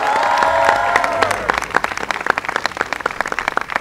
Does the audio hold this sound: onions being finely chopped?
no